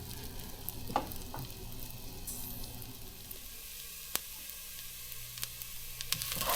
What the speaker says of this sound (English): so we're just about done sauteing the onions